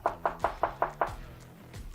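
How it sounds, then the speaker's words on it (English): Six quick, sharp knocks on a house door sound close and evenly spaced in about a second, then the scene goes quiet apart from a faint background rumble. "Let me just knock on this door here."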